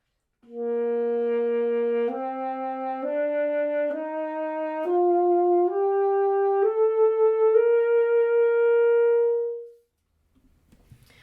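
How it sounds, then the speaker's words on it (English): A saxophone steps up and back down a scale in sustained notes, each tone wavering with a steady, gentle vibrato, played solo and close. "play with vibrato as you're going up and down a scale"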